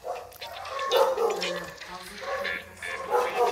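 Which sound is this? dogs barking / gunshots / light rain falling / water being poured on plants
dogs barking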